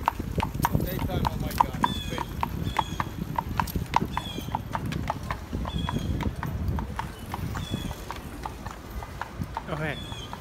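Horse hooves clip-clop on the horse lane in Central Park, New York City, in a steady brisk rhythm nearby, with people talking and city background noise underneath.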